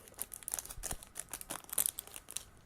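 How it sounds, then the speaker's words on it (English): Sealed transparent plastic bag from a model kit being opened, quiet irregular crinkling and rustling with several sharper crackles, close by and without talk. "Now I'm removing another transparent plastic bag."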